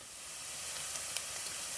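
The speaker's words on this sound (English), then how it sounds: "the onions have gone lovely and soft, and they're still cooking away and sizzling nicely" Onions that have softened keep frying in a pan for a spicy pumpkin soup with ginger, making a faint, steady sizzle with a few tiny crackles and pops.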